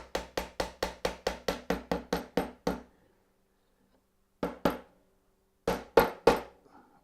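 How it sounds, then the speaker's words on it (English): Steel hammer tapping together the interlocking wooden finger joints of a box: a fast run of about a dozen sharp, evenly spaced knocks, a pause, then a few heavier isolated blows, close and loud with no talking. "I'm getting in trouble here because I've used a hammer instead of a mallet."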